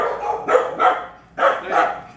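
A dog barks outdoors at a dog training session, four loud close barks in two quick pairs with a short pause between, no speech over them.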